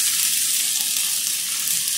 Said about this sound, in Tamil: தக்காளி வெங்காயம் நல்லா வதங்கட்டும்.